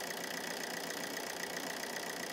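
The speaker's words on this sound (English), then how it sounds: "Actually hear the engine note change." A Vauxhall Corsa engine idling with a faulty new alternator, a steady hissy hum that holds even and fairly faint for the whole short stretch, with no voices over it.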